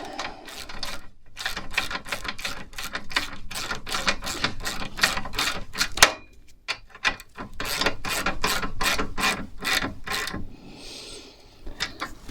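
A ratchet clicks quickly and repeatedly, close up, as a bolt on a winch's fairlead rollers is tightened. It comes in long rapid bursts with a short pause near the middle and a quieter stretch at the end. No one speaks.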